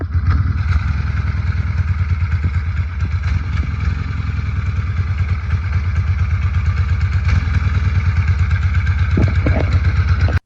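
A custom-built vintage Harley motorcycle engine runs steadily and loudly close by, a continuous throbbing, rumbling beat with mechanical clatter and no pauses.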